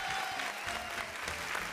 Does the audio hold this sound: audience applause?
yes